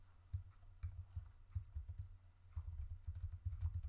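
Rapid keystrokes on a computer keyboard while entering JavaScript code, a steady close clatter of light taps in irregular bursts with brief pauses, quiet and without voices.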